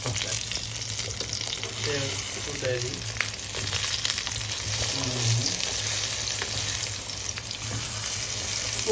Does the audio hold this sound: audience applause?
no